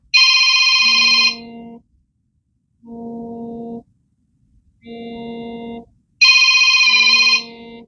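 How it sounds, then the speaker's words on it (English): Mini flip phone ringing with a bright electronic ringtone, a loud close tone burst followed by repeating shorter chimes with pauses between them, alone. "It's ringing now."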